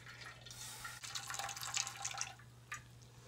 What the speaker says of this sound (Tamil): அதனால் இந்த தண்ணியை மட்டும் வடிச்சிக்கலாம்.